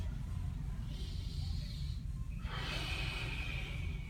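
Slow, deep breathing during an abdominal fascia release on a soft slam ball below the rib cage: two long airy exhales, close and hissing, over faint background hum.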